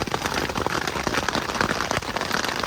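Rain and hail beat steadily on a tent during a mountain storm on Granite Peak, a dense, loud patter of sharp ticks and hits that runs without pause.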